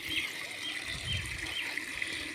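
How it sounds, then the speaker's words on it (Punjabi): A steady stream of water splashes and trickles onto soil, a soft continuous gushing with no voices. "ਸਬਜ਼ੀਆਂ ਨੂੰ ਪਾਣੀ ਲਾਉਂਦਾ ਏ"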